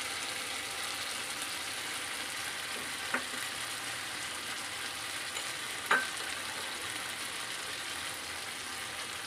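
Cumin and chili powder sautéing in oil for a no-onion, no-garlic potato dum curry, a steady broad hiss of frying with two brief clinks of a spoon near the third and sixth seconds.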